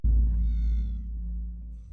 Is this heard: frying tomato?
no